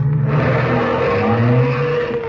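A car speeds away with a squeal of skidding tires in an old radio drama, the engine revving loud and close as the whine slides in pitch over about two seconds.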